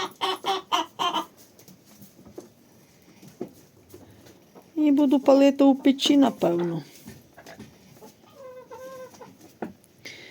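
A rooster crows in the middle of the clip, loud and fairly near, with bird chatter before it and someone speaking at the start.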